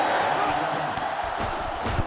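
A stadium crowd roars in NCAA Football 2005 during a Kansas vs Kansas State game, a dense, loud, continuous wall of cheering and yelling with some louder bursts of voices near the end.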